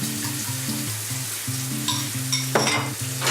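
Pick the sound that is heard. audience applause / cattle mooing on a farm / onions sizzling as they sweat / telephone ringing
onions sizzling as they sweat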